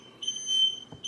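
Smoke alarm set off indoors by smoke: a thin high-pitched electronic beep sounding in short pulses, fairly faint, with light rustling and a brief knock near the end.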